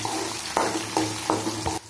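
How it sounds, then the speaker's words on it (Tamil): Onion, green chillies and curry leaves sauté in hot oil for hotel-style rava kichadi, a close, steady sizzle broken by regular stirring scrapes of a spoon against the pan. "பச்சை மிளகாய் கொஞ்சமா கருவேப்பிலை இதையும் சேர்த்து நல்லா வதக்கிடுங்க"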